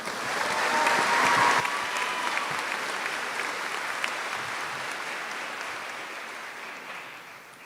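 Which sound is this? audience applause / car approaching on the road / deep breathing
audience applause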